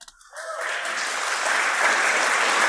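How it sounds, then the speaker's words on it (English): A crowd bursts into applause after a brief quiet moment, the clapping building quickly and staying loud and steady to the end. "Watch, they're gonna clap."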